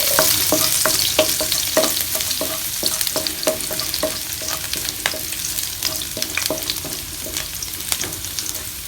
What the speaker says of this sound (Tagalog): Ngayon po, igisa na po natin ang bawang.